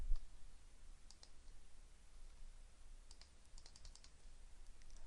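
Light, quick clicks of a computer mouse come in small clusters while working in Flash Builder, close and crisp over a quiet room hiss.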